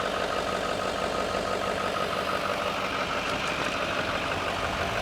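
A Duramax 6.6 heavy duty diesel engine idles at close range with a steady, loud rumble and a faint diesel clatter, running evenly throughout without any talk.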